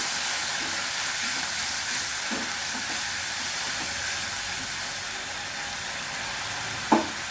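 Yogurt sautés in a pan for a prawn and potato dish, giving a steady, even hiss of sizzling with a faint stir or two and a single sharp tap near the end, and no talking.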